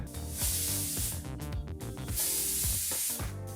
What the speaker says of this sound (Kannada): ಕುಕ್ಕರ್ ಎರಡು ವಿಸಲ್ ಬಂದಾಯಿತು